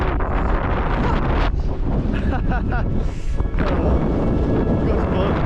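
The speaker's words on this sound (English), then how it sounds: "It is so windy up here." Strong wind buffets the microphone in a loud, constant roar on a mountain summit in England, with brief voices heard faintly beneath the gusts.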